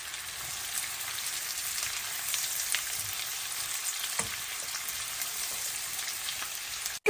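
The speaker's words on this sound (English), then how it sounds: "I'm going to roast my onions. The oil is ready. Time for the onions to go in." Onions shallow frying in oil for a Hyderabadi biryani, a steady, bright hiss of sizzling with scattered crackles and a couple of stirring knocks, close and continuous.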